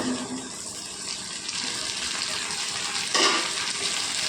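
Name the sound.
okra (lady's finger) frying in oil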